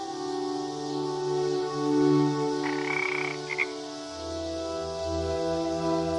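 Rainforest tree frogs croaking steadily in a dense, continuous chorus of layered calls, with a brief higher trill partway through and no voices.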